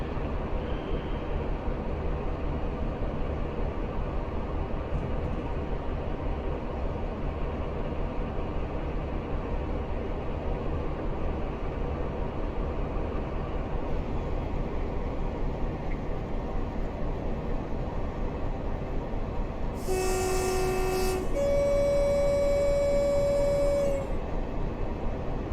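A Class 47 diesel locomotive in Train Simulator Classic runs with a rough, steady engine drone heard from outside. Near the end come brief high horn-like tones and whistles.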